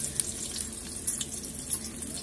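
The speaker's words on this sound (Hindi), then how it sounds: "इधर प्याज भून रही है" Chopped onions sizzle in hot oil in a kadhai over a wood fire in a village kitchen, making a steady close hiss with crackling bursts.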